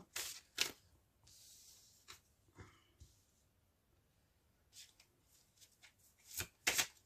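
Tarot cards are shuffled and laid out in quick, faint riffles and soft flicks, with a few sharper card snaps toward the end and quiet stretches between.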